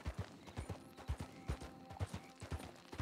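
Steady rhythmic clip-clop of horse hooves at a brisk pace in the video game Red Dead Redemption, close and even, with no talking.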